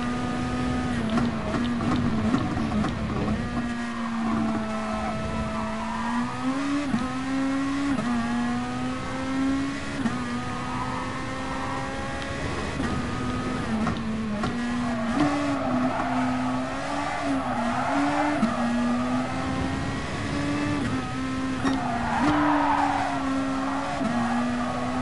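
A race car in the video game GT Sport screams along continuously, its engine tone rising and dropping with shifts and braking, with occasional tire squeal, steady and loud throughout.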